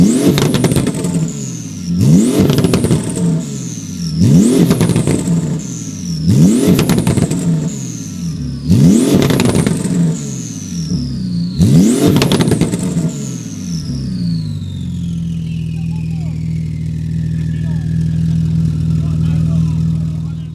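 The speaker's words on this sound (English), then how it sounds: "This GT2 RS has got straight pipes, J-shaped exhaust." Porsche 911 GT2 RS with straight-pipe J-shaped exhaust revving hard in six sharp, evenly spaced blips, each rising and snapping off, then settling into a steady loud idle burble.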